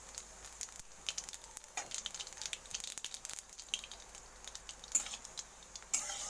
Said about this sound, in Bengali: দেখো তেল হিট হয়েছে, আমি কটা কালো জিরে দিয়ে দিলাম।